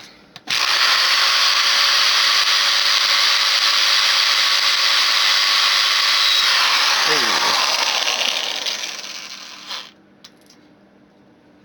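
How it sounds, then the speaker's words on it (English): A power drill boring out a part for a homemade gravity racer, a loud continuous whine running steadily for about nine seconds before slowing and cutting off, followed by faint handling noises. "Now let's drill out this"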